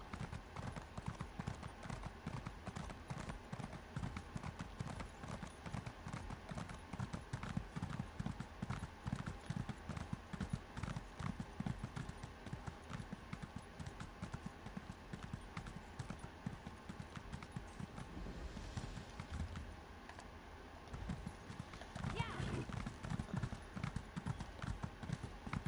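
A single horse trots in Elder Scrolls Online, its hooves clip-clopping in a steady, quiet rhythm throughout.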